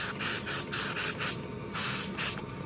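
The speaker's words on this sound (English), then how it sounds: "So I'm just going to give them another spritz" Spray bottle spritzing smoked pork ribs on a pellet smoker, several short hissing squirts in quick succession, close and clear with no talk.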